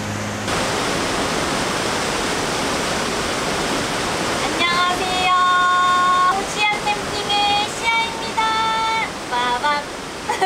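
A waterfall roars steadily beside a campsite in the Jirisan Danseong area, a constant broadband rush that runs throughout, with a person talking over it in the second half.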